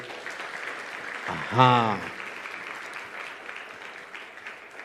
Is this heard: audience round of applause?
yes